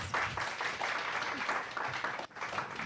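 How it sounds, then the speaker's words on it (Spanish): A short burst of audience clapping after a talk on typography, moderately loud and steady, lasting a few seconds before thinning out. "Muchas gracias. Un aplauso, por favor."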